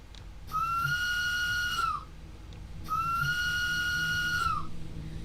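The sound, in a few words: steam train whistle in Train Sim World 2 video game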